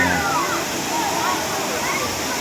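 Malilipit Falls, a waterfall in Bicol known locally as Busay, roars as a steady broadband rush of falling water, loud and continuous throughout, with faint voices and splashing under it.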